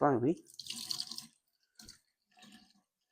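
Cool water runs and splashes into a jar as tomato seeds are washed, a short burst of rushing liquid after a brief voice, then two quieter trickles with pauses between.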